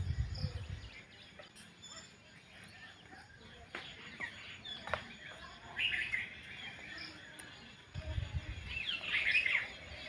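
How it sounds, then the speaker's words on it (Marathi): Birds chirping and tweeting outdoors in the morning on a farm, scattered calls from several directions over a quiet background, with a few soft low thumps. "किती छान वाटते पक्ष्यांचा असा आवाज किलबिलाट"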